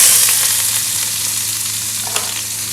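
Diced, de-seeded green chilies fry in a pan with a steady, close, loud sizzle, a broad hiss that holds for the whole stretch, with a faint scrape or two near the end.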